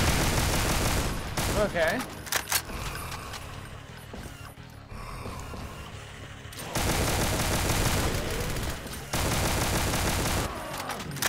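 Brutal Doom minigun firing in sustained loud bursts, a dense roaring stream of shots that cuts out briefly mid-clip, then resumes in two long blasts, with a single short spoken word.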